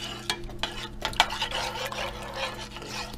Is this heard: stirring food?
yes